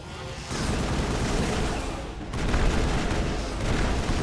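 Shotgun fire in Mass Effect comes as loud, dense, rumbling blasts that merge into a continuous heavy roar of combat, swelling again about halfway through.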